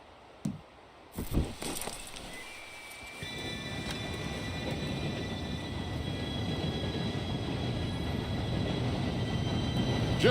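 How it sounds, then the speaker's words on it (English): An approaching train in Red Dead Redemption 2: a low rumble swells steadily louder and nearer, with thin metallic ringing tones above it and a couple of sharp knocks at the start. "Train should be here any minute."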